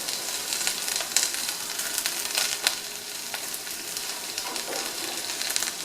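Cabbage frying in hot oil with onions and turmeric, a steady close sizzle and crackle with occasional stirring clatters and no talking.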